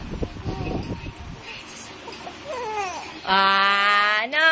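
A baby starts wailing loudly after some fussing and soft whimpers, the cry rising into a sustained, piercing howl close by.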